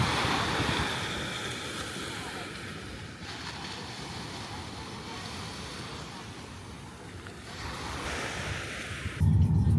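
Surf rolling onto the beach at Nusa Dua, Bali, a steady broadband wash of breaking ocean waves close by, with wind buffeting the microphone and a louder low rumble near the end.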